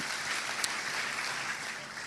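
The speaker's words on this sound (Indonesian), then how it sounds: "Kasih tepuk tangan dulu yang luar biasa" A church congregation applauds, a soft, distant wash of many hands clapping at a steady level with one brief sharper clap near the start.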